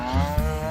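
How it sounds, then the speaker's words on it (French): A Ferrandaise cow lowing on a farm in Auvergne, a single drawn-out harmonic moo lasting under a second, close and fairly loud against a low rumbling background. "une race de vaches typique de la région et méconnue, la Ferrandaise"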